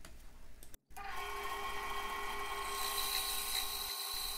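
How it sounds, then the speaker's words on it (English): A 10-inch benchtop bandsaw fitted with a milling sled cuts the edge of a small honey locust log: a steady, loud whining motor hum with a rising, hissing cutting noise as the blade bites in, after a brief pause near the start. "first just securing it to the milling sled, and then I cut one edge of the log."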